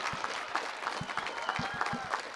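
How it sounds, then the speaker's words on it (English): Applause from a commencement audience for graduates and award recipients, a fairly quiet but continuous patter of many hands with a few sharper individual claps standing out. "can I hear a very big round of applause?"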